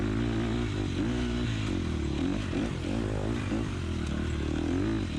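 Motocross dirt bikes in a 250A race at the 2020 Cherokee NEPG event: a continuous distant engine drone rises and falls as riders work through corners, with no gaps.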